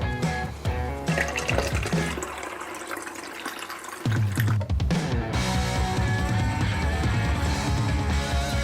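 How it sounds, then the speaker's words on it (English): Water from a tap pours into a bottle already holding cutting oil, a steady gushing fill that deepens and grows louder partway through as the bottle fills, with no talk. "now I'm going to fill the rest with water"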